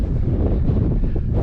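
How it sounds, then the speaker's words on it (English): Strong wind on a mountain saddle near Browns Peak in the Four Peaks buffets the microphone with a loud, steady low rumble and roar, no voices. "It's a little windy up at the saddle here."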